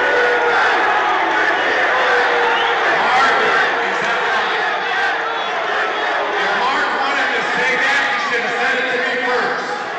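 Large crowd at a church gathering chanting "bring him back" in unison, loud and continuous throughout, with dense overlapping voices and shouting filling the space.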